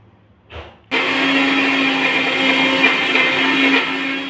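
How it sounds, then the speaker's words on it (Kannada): A brief knock, then a mixer grinder whirs up loudly and runs steadily at high speed grinding ginger and cumin, close and continuous, with no talking. "ಇದನ್ನೆಲ್ಲ ನಾವು ಮಿಕ್ಸಿ ಜಾರಲ್ಲಿ ಹಾಕಿ ಮಿಕ್ಸಿ ಮಾಡೋಣ"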